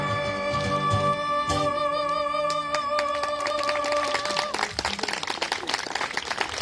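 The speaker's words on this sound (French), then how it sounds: "On peut les applaudir très fort." Audience applauding performers at a live show, clapping and cheering rising over the end of a sustained music chord, moderately loud and continuing as the music fades.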